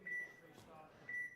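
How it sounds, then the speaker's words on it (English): A pool match timer beeps twice at the table in a championship game, each beep a clear sustained electronic tone about a second apart, with a short sharp knock at the end. "I've heard a beep."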